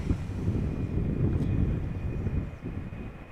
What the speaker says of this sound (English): Next up is an Embraer 190.